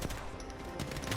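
Rapid bursts of automatic gunfire from a Prowler or R3 in a shooter video game, dense and continuous through a brief, moderately loud stretch.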